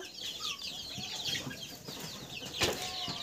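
Hundreds of chickens and young chicks shut in a lit pen for the night chirp and cluck faintly and without pause, with a brief burst of wing flapping near the end.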